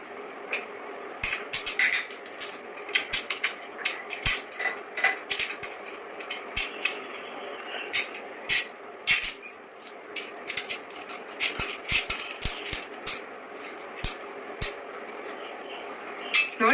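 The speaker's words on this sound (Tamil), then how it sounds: "இப்போ லாஸ்ட் ராட் நான் ஃபிக்ஸ் பண்ண போறேன்." Metal rods being fitted and tightened while assembling a stand, a busy series of sharp metallic clicks, taps and clinks at close range, with a voice talking intermittently underneath.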